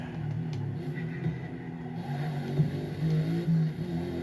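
Race car engine in the Forza Motorsport video game on Xbox Series S, droning steadily at low pitch with small swells in revs as the car chases another down the track.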